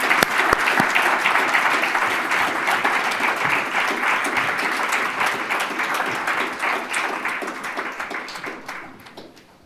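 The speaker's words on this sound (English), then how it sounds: "I'm going to request the audience as well to applaud the team who's put this together." An audience at a governance, risk and compliance summit in London applauds the organising team with sustained, dense clapping that stays steady for most of the stretch before thinning and fading toward the end.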